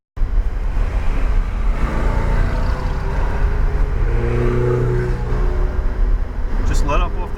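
A Lamborghini on a cone-marked driving course accelerates under added power, its engine a steady loud drone with rising revs, while an instructor talks over it throughout.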